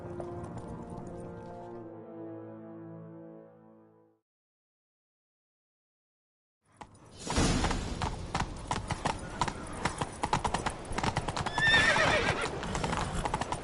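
In The Witcher video game, after a musical passage and a brief silence, a horse gallops with rapid clip-clopping hooves, loud and close, with a whinny.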